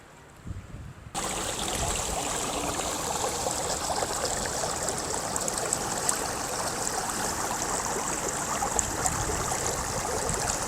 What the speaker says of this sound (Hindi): इसी तालाब से ये पानी इस वक्त नशेब की तरफ बह रहा है।